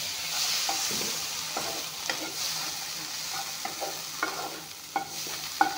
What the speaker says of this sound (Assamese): এইখিনি অলপমান ভাজি ল'ম, মৰমৰীয়াকৈ নাভাজোঁ।